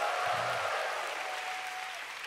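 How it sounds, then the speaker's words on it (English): A church congregation claps together in a hall, a soft, steady wash of hand claps heard from a distance and fading slightly toward the end. "Let's give the Lord a big clap."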